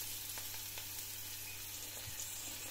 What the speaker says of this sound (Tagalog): Lagyan na natin ng sibuyas.